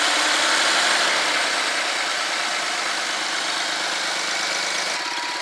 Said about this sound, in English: just a quick listen to the motor here.